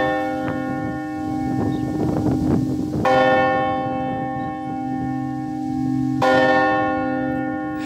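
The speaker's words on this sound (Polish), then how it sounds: "Ta dzwonnica stoi przy starej cerkwi w Zarwanicy." Bells in the belfry beside the old church in Zarwanica ring out clearly, with resonant strikes at intervals whose long humming tones sustain and overlap between hits.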